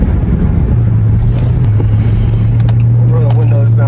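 An RT car with its mid mufflers cut gives a loud, steady low exhaust drone from inside the cabin, holding one deep tone throughout with some wind rush over it.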